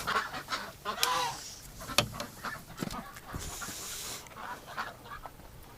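Muscovy ducks in a shed on a windy winter day give scattered breathy hisses and honk-like calls, close and moderately loud, with gusty wind noise between them.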